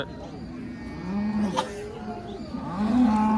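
Cows lowing at a busy cattle market, several drawn-out moos rising and falling one after another amid a steady crowd murmur, fairly near and moderately loud.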